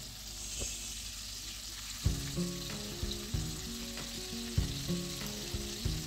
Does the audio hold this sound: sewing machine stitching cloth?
no